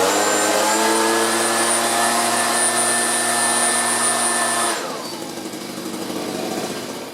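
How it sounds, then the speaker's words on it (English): Compressed air blows hard into a space heater, a loud steady hiss and whine that cuts off abruptly and leaves a softer rushing airflow. "I'm just going to tip this way and blow in it"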